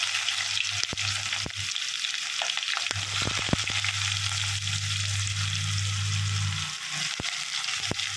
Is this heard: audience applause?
no